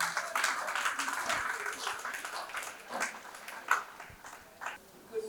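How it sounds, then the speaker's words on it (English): Applause for a keynote speaker at a Catholic archdiocese family life event in Lagos, a moderate crowd clapping that fades unevenly, with a few scattered louder claps near the end. "A round of applause for her."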